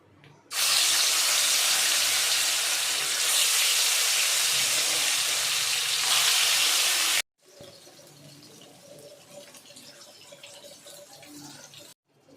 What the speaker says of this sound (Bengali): এবারে মাছটা ভালো করে ভেজে নেব লাল লাল করে